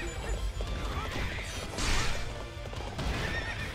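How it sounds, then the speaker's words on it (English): In the Hyrule Warriors HD video game, a demon horse whinnies amid battle clatter, hoof clops and crashing hits. The neigh stands out near the middle over dense game sound effects. "And now we have our horrible demon horse."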